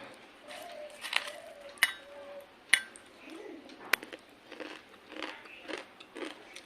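Someone bites into and chews crunchy food eaten with onion, giving a few sharp, close crunches and small clinks spaced between quieter chewing, with a faint voice now and then.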